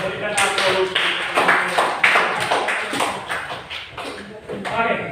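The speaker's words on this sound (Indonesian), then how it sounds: "Mari kita berikan aplaus." A class of students claps together in a classroom, a burst of fairly close, uneven hand claps that swells and fades over several seconds.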